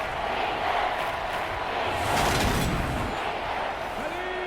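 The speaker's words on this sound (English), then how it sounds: "this crowd's going to get even louder" Football stadium crowd roaring steadily at an NFL game between the New Orleans Saints and Atlanta Falcons, a loud, sustained wall of cheering that swells briefly midway, with faint voices mixed in.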